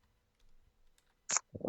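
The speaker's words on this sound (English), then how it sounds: "I'm just typing in largest middle class states." Typing on a computer keyboard at a desk: a few soft, scattered key clicks, then two louder, sharper clacks close by near the end, in an otherwise quiet room.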